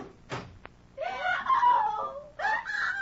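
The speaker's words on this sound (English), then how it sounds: "What was that scream I just heard?" A patient screams offstage in an old-time radio drama, one short cry followed by a longer wailing scream and a second anguished burst, fairly loud and heard alone.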